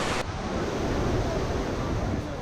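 Iguazú Falls on the Brazilian side produces a steady, dense roar of falling water that fills the whole moment with unbroken broadband rushing noise, loud and constant, with no voices.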